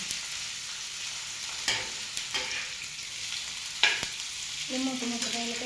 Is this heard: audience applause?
no